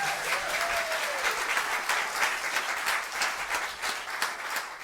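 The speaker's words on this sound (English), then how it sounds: "Give him a round of applause." An audience claps steadily to welcome a guest speaker, a full room of applause with distinct individual claps audible and a brief whoop at the start.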